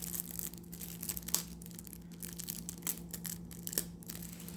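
Crinkly plastic wrapper on a trading card starter deck being torn and crumpled in short rustling bursts, close up and fairly quiet, with no talking.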